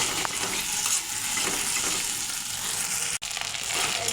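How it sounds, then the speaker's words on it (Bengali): Ginger-garlic and cumin paste frying in a pan for fish curry, a steady soft sizzle with occasional stirring scrapes and one sharp click of utensil against metal. "ভালো করে কষিয়ে নেব"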